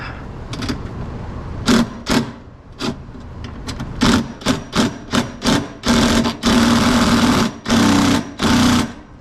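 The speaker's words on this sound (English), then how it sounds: "I got the drill to loosen the hinges" A power drill whirs in repeated short bursts while loosening door hinges on a RZR side-by-side's canvas doors, starting and stopping in an uneven rhythm, loud and close, with longer runs toward the end.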